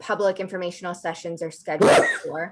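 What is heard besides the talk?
sneeze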